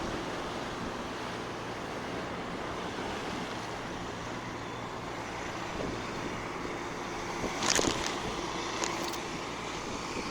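Rough sea waves at Azhithala during a coastal surge make a low, steady, distant roar mixed with wind, with a brief sharper noise partway through.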